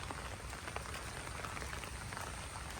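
Steady, continuous rain falls on farm fields, a dense, even hiss of drops with no pauses, heard alone without voices throughout.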